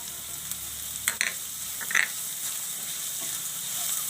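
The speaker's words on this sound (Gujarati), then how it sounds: "હવે આપણે આ ગાજર છે એ નાખી દેવું" Carrots tipped into a hot pan of finely chopped onions set off a steady, close sizzle, with a few light utensil clicks near the start and no talking.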